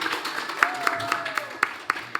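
Rhythmic handclapping at a steady beat at an Indonesian high school competition regional final, a few clear claps cutting through a faint tone and light background voices.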